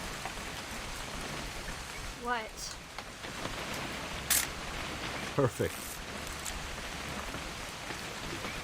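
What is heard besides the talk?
rain in video game What Remains of Edith Finch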